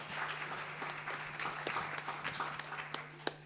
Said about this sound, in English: let's give a round of applause to our discussants